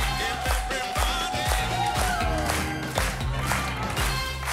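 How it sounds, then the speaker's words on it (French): A French TV game show studio audience claps and cheers steadily for a contestant's right answer, a dense continuous wash of applause with music playing underneath. "On peut l'applaudir."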